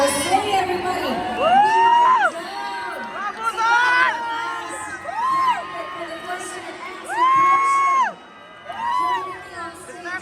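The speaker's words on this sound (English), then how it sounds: "Let's give a big round of applause for Miss Cagayan de Oro City, everybody." Loud crowd cheering at the Miss Grand Philippines 2023 pageant, with high shrill whoops and screams rising in waves over a steady roar of a large audience.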